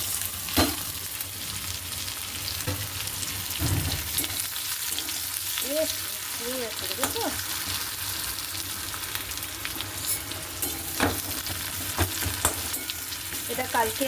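Grated garlic and chopped onion fry in oil left over from frying fish-roe fritters, with a steady loud sizzle and occasional stirring scrapes and clinks up close.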